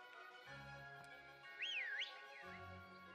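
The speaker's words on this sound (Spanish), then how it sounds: "Ya silbié." A person whistles one short, sliding tone that rises and dips, faint and brief, over soft background music from a Pokémon video game.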